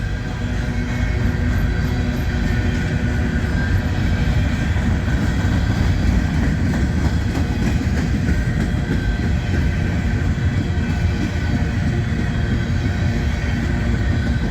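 A train climbs a grade, losing speed as it rumbles past steadily and loudly, a continuous heavy roar of rail noise with faint clanking, no voices.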